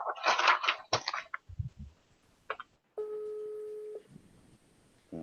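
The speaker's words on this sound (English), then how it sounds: "I'm calling him on my phone." A mobile phone placing a call during a board meeting: after some rustling and knocks comes a steady electronic ringback tone lasting about a second, clear and close.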